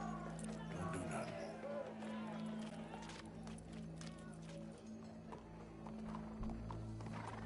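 Horse hooves clip-clop along in Red Dead Redemption 2, with a horse whinnying and running, set against a low steady in-game hum, with voices talking over the scene.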